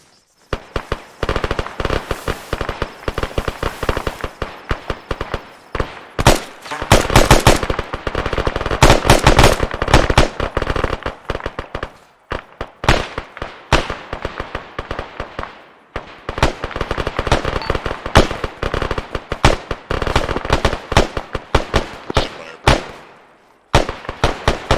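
Squad gunfire during Arma military training rings out in dense bursts of rapid automatic and single shots from several weapons, loud and near, with short pauses between volleys over nearly half a minute.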